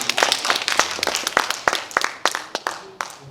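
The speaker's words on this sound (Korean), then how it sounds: "5분 선생님께 다시 한번 큰 박수를 부탁드리겠습니다" Applause from an audience at the close of an academic seminar, many hands clapping with sharp irregular claps that rise and then taper off over a few seconds.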